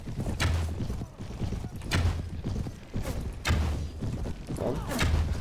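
A horse gallops in a medieval battle game, hooves pounding in a steady rhythmic beat with loud thuds every second and a half, heavy and close over a rumbling battlefield background.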